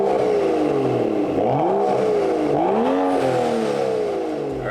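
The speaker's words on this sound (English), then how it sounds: "I'll show you guys some revs so you guys can hear what the exhaust sounds like" A BMW F30 335i with the N55 turbocharged inline-six revs hard through its exhaust, the loud, steady engine note climbing and falling in repeated sweeps, heard up close with no talking.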